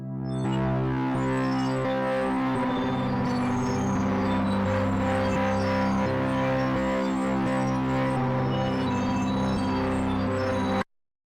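A dense, gritty synth melody with halftime, distortion and flanger effects giving a sweeping, whooshing texture, loud and sustained, then cutting off abruptly at the end.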